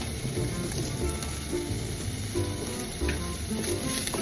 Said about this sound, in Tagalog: lagay ko na agad yung bawang at sibuyas